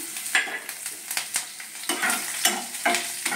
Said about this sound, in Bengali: এবার আমি কাঁচা লঙ্কা কুচি দিয়ে দিলাম